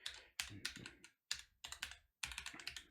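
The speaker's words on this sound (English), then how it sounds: "I'm typing in the wrong place." Computer keyboard typing in several quick bursts of clacking keystrokes separated by short pauses, close and fairly crisp, with no voices.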